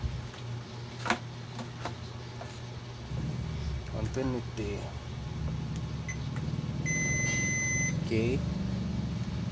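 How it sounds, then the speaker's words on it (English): A multimeter on continuity test gives a single steady electronic beep lasting about a second near the end, clear but modest in level, with people talking and a low background hum throughout, while an LG speaker system's circuitry is being checked. "Continuity test."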